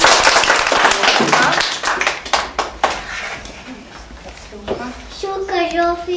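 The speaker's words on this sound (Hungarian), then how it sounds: "tapsoljuk meg a nevedet" Children at a kindergarten carnival in Hernád clapping together in a burst of close, uneven applause, then scattered claps as a teacher and young children talk.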